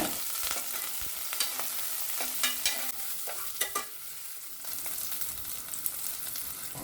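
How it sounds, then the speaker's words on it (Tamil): Small onions and curry leaves sauté in hot sesame oil with an irregular sizzle, marked by sharp pops and scraping stirring strokes close by, and no voices. "நல்லெண்ணெய் சூடு செஞ்சு பிடிச்ச சின்ன வெங்காயமும் கொஞ்சம் கருவேப்பிலையும் சேர்த்து நல்லா வதக்கிக்கோங்க"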